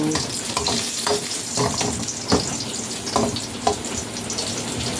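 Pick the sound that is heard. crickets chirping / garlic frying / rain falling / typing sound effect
garlic frying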